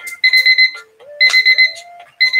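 A live online auction's timer alarm rings loud and close in repeated bursts of bright electronic beeping, with short pauses and a lower gliding tone between the bursts.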